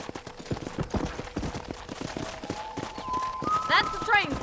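Horse hooves clip-clop at a steady walking pace in the Red Dead Redemption video game, a near, even rhythm that carries on under a voice talking.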